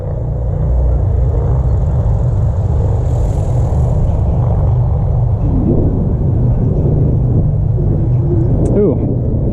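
An RC helicopter, an Ikarus Eco-8, descends in autorotation after a throttle cut and makes a rough landing: a steady loud rumbling whoosh of air over the mic, then faint scraping thuds near the end.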